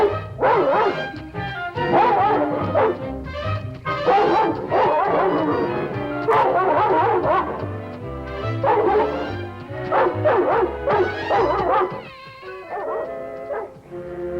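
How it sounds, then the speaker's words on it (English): A dog barks and yips continuously at a charging elk outdoors, a loud, busy stream of overlapping barks, howls and whimpers with no pauses. "She figured a barking dog meant trouble for her youngster."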